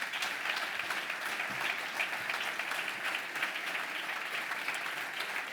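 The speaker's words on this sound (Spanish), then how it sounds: "Un aplauso, por favor." Sustained applause from an audience at a journalism award ceremony, the Santi Oleaga journalism prize, steady dense clapping filling the room without a break and without speech over it.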